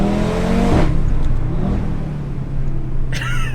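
Audi RS3 facelift accelerating on the road, its engine revving loud and near, dropping in pitch at a gear change and then pulling steadily again, with a brief whine near the end.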